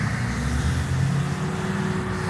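Traffic rolls past at a crash scene on PGA Boulevard, a steady, loud roar of car and engine noise with tire rumble and no talking.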